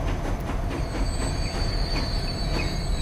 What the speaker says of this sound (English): So the train comes in, and there's nobody here yet because it does take a bit of time.